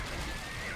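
Horse whinnying from Age of Empires II, a short dense burst that fills the whole moment and is loud and close, with no talk over it.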